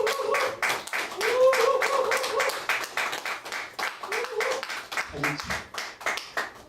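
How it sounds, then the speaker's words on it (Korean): Clapping from a church congregation at a deacon appointment ceremony, rhythmic and moderately loud, with people talking over it throughout. "박수."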